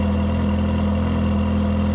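Mercedes-AMG GT Black Series idling in comfort mode with exhaust valves closed, a steady low rumbling drone heard close and continuous, with no voices.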